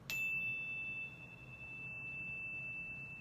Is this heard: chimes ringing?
yes